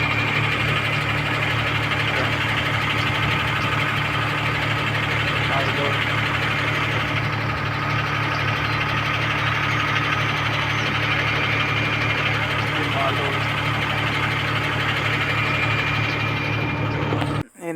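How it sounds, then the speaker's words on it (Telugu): Truck engine idling after being started, a steady close rumbling drone that holds unchanged for the whole stretch before cutting off abruptly at the end; someone talks over it. "మనమైతే బండి స్టార్ట్ చేసుకొని పెట్టినాం."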